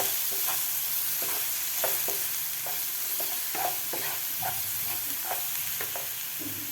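Steady sizzling of spices frying in a pan for vada rassa, with repeated light scraping strokes of a spoon stirring in an even rhythm.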